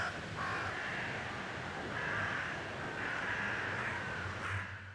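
Crows caw repeatedly over a bleak, stormy forest scene, the harsh calls rising in several drawn-out bursts above a steady bed of rushing wind.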